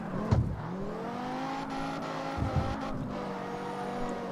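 In-game car with a swapped Viper engine, a steady droning engine note with shifting pitch as it drives, a couple of brief thumps, moderately loud and with no talking.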